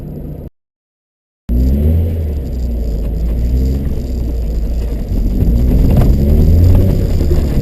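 A car on an ice track at a winter driving event, wheels slipping as the engine rumbles and whirs steadily, building slightly in revs, close and loud with no talking.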